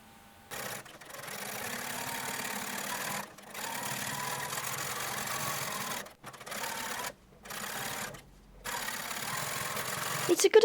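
A sewing machine stitches along the edge of jeans pockets in bursts, its fast whirring hum starting and stopping several times with short silent pauses between runs, close and fairly quiet.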